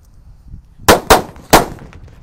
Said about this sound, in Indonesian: Selanjutnya kita nyalakan mercon Colorful Thunder. Ini ada 3 sekaligus ya.